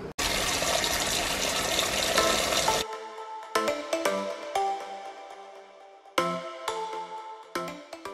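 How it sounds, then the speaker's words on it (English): Tap water gushing into a bowl to make hot soapy water for scrubbing oven trays, a loud steady rush for about three seconds, then stops, followed by clinks and knocks of dishes. "fill up my bowl with hot soapy water and start scrubbing these trays"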